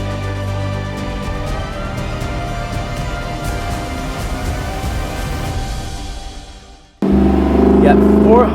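A Lexus LC 500 with a 471-horsepower engine and quick 10-speed automatic accelerates hard, a loud sustained engine note building for about seven seconds, then a brief dip before a loud rev resumes.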